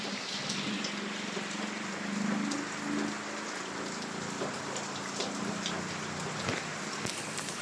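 Heavy rain falls steadily during a shear-line storm, with a dense hiss of drops on surfaces and a low rushing wash of floodwater underneath, fairly faint and constant throughout.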